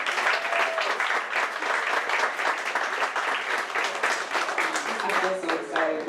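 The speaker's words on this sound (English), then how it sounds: "Can you give a special person a round of applause?" An audience applauds the speaker's mother, who has just arrived, with dense, continuous clapping at close range that stays loud and even from start to finish.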